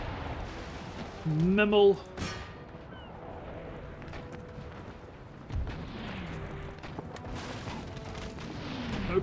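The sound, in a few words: ship cannons firing round shot in the video game Empire: Total War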